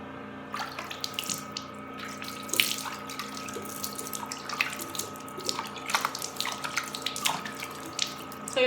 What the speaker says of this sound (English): you're just gonna pour water, and it's just gonna be coming down like that